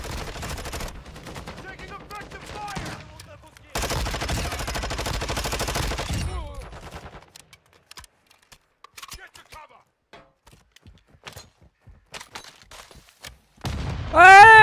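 Gunfire in Call of Duty, rapid automatic bursts in two dense volleys, then scattered single shots and sparse pops, with a loud burst at the end.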